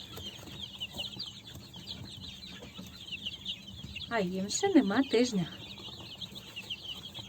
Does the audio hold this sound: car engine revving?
no